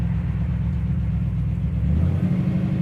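A 1966 Chevy Nova pro-street car idles with a deep, steady, loud rumble that swells slightly toward the end, with no voices over it.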